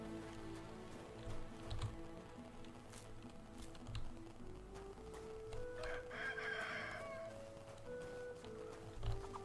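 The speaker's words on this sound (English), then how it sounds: "Chicken, chicken, chicken." Chickens cluck softly in a medieval village setting in Kingdom Come Deliverance II, with a brief crowing-like call in the middle. Quiet ambient game sounds continue underneath.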